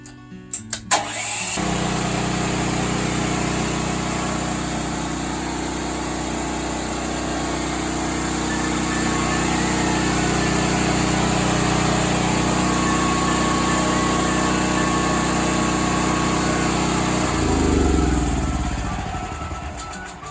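A generator engine fed from a 20-pound propane tank starts with a few sharp clatters, then settles into a loud, steady running drone that holds alone for over fifteen seconds before its tone shifts near the end.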